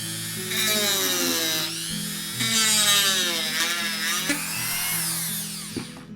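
A Dremel rotary tool bites into a plastic model, a loud close whine that rises and falls in pitch as it melts through the plastic in continuous passes, alone without speech.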